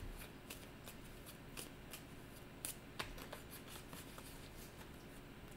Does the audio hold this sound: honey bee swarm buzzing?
no